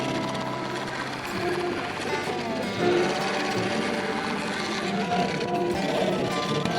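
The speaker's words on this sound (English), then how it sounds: "He's got a very precarious piece on the old lathe." Wood lathe spinning a precarious bowl blank made from torched cedar pieces glued together, with a steady mechanical whir and a dense scraping, chattering cut running continuously at close range.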